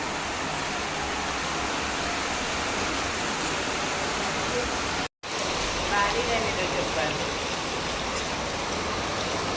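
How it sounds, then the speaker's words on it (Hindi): Steady, dense hiss of heavy rain pouring continuously, broken by one brief dropout midway. "बारिश तो बहुत ज़्यादा तेज़ हो गई है"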